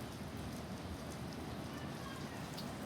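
Light rain falling outdoors at a school, a steady soft patter with faint scattered drop ticks throughout.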